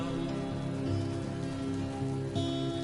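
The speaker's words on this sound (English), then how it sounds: "I do not like the fact that it's starting to rain" Steady rain falls in the video game Death Stranding, a continuous even hiss of drops on surfaces with no talk.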